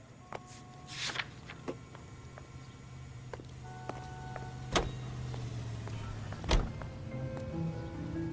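A car drives in the video game L.A. Noire: a steady low engine hum runs throughout, broken by a few sharp clicks and knocks, with no voices.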